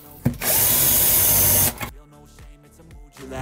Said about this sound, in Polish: wiertłem samocentrującym odznaczę sobie otwory pod wkręty